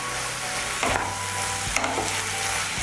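Sliced radish frying in a pan over high heat, a continuous sizzle broken by a few scraping stirs of a utensil against the pan, close and clear with no voices.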